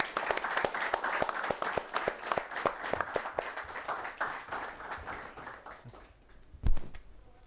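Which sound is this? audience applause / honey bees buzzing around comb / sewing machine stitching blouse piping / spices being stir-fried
audience applause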